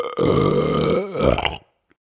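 One long, loud, close burp that rolls for over a second, with a guttural croak partway through before cutting off into silence.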